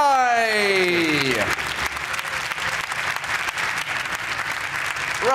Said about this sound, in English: Please give a massive round of applause, Joe Buckeye!